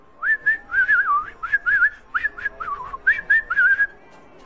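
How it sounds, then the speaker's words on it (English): Several people whistling a wavering, tuneful melody in short repeated phrases, close and fairly loud, with brief gaps between notes and no talking. "ready to do some whistling?"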